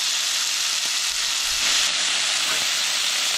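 Bacon frying in a pan, a steady broadband sizzle that holds at an even loudness for the whole stretch, close and continuous with no voices over it.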